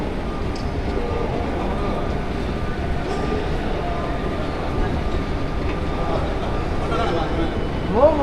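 A metro train runs at a metro station, a steady, loud rumble and clatter that fills the whole stretch and rises slightly near the end, with voices mixed in.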